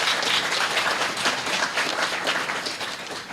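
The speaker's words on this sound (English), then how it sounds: "Give him a round of applause" Audience at a fatherhood convention applauds, a full room of clapping with a soft rhythmic pulse that holds steady and fades slightly toward the end.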